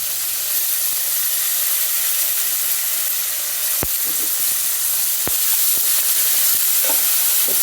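Fresh coriander and mint leaves hiss and sizzle steadily in oil in a pan while cooking coconut pulao, with a few sharp scraping clicks of a spoon stirring them.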